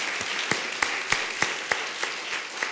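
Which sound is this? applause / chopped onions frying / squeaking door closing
applause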